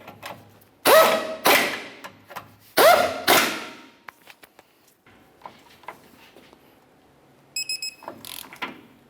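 Ratcheting wrench bottoming out transmission mount nuts under a 2001-2005 Ford Explorer Sport Trac, two loud bursts of rapid clicking followed by scattered lighter tool clicks and a brief high chime near the end.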